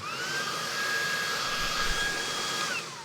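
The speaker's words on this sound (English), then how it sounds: "Then we just choose from 3 different suction settings for the vacuum." Dreame R10 cordless vacuum cleaner running at max suction, a steady high-pitched motor whine with airy rush, close and continuous for about three seconds before winding down at the end.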